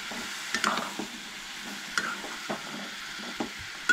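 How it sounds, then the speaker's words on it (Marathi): Mixed vegetables with cauliflower are stirred in a pan, with a quiet, steady sizzle beneath a few sharp scraping clinks of the spoon against the pan, spaced irregularly and heard alone. "तर सगळें मागीर मिक्स करून घेवंक जाय"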